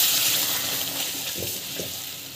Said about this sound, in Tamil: தண்ணி வந்து எந்த அளவுக்கு தேவையோ அந்த அளவுக்கு தண்ணி விட்டுக்கோங்க.